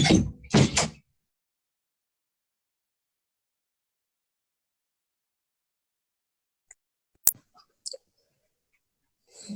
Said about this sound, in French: Je vais fermer la porte pour éviter qu'elle revienne.